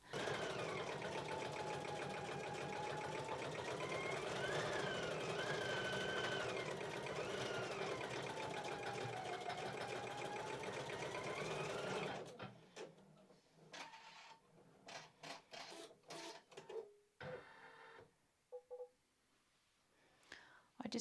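A home embroidery machine stitches a design onto a t-shirt, giving a steady mechanical whirring hum with rising and falling tonal whines, running loud and continuous before stopping abruptly into quiet, scattered clicks and small handling sounds.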